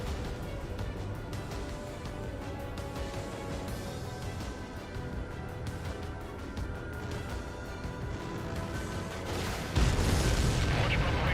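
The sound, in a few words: anti-air gun firing in video game Ace Combat 7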